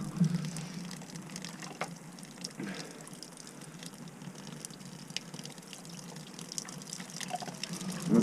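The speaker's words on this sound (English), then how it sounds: "So I'm gonna let that water run out." Thawed water running out of a frozen drain pipe under a house during a snow storm, a steady faint trickle and gush with scattered drips, continuous throughout and no talking.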